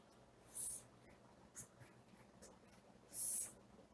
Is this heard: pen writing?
yes